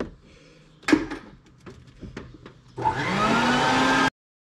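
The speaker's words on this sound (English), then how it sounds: "if you're gonna get this far and you're not gonna vacuum the floor" A vacuum cleaner switches on and whines steadily at close range while cleaning the floor of a Nissan 370Z, after a few clunks and knocks as it is readied, then cuts off abruptly.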